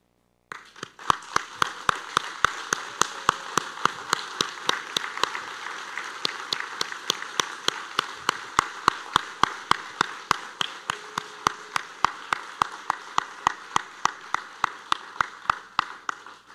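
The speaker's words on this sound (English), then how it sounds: "join me in giving a loud, not like before, a loud and boisterous round of applause" Audience at a community college academic award ceremony gives a round of applause for graduating celebrants, with a steady stream of claps and sharp louder claps punching through. It runs for about fifteen seconds.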